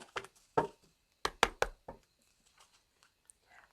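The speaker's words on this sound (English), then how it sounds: "let me shuffle it a couple of times" A well-used tarot card deck is shuffled and knocked by hand, giving a handful of sharp, close taps and soft card rustles in short clusters, then quieter scattered ticks, with no talking.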